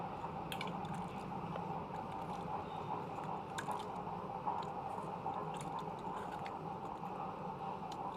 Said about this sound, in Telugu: ఇలా చేత్తో అన్నీ బాగా కలిసేలా కలుపుకోవాలి.